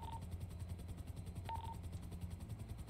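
A video game helicopter with a steady low rotor thrum and engine drone, close and even throughout, with a couple of brief electronic beeps on top and no talking.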